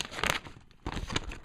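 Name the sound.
handling paper instructions from an Audio Technica lavalier microphone box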